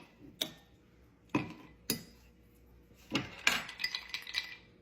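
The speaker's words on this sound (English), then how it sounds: "So I had to go and grab just some regular ice cubes out of the freezer. So we'll put a few of those in the glass here" Ice cubes from a freezer dropped into a glass while a bourbon drink is prepared, giving a few sharp separate clinks followed by a quicker cluster of lighter rattling clinks, close and fairly quiet with no talking.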